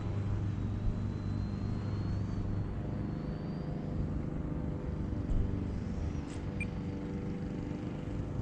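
An E-Flite Viper 70mm EDF RC jet whooshes in to land, a steady broad rumbling drone with a thin whine drifting overhead at moderate distance, mixed with wind.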